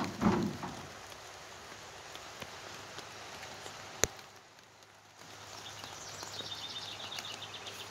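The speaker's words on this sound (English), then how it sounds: "Here comes the rain." Steady rain pours down outdoors in a garden beside a backyard shed, a dense continuous hiss with a brief sharp tap midway and a short lull before the downpour resumes; a faint bird call is heard near the end.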